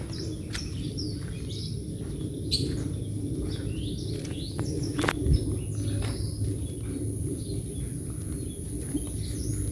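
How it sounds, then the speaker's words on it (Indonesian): Birds chirp and tweet in scattered bursts on an early-morning walk over a steady outdoor hum of insects, with an occasional faint footstep or rustle nearby. "Ini sambil nikmatin suara burung."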